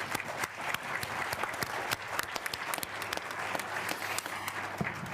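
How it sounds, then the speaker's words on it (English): Audience applause at a World Economic Forum conference panel, a steady, moderately distant round of clapping from a seated crowd that continues evenly for several seconds. "they deserve a big applause"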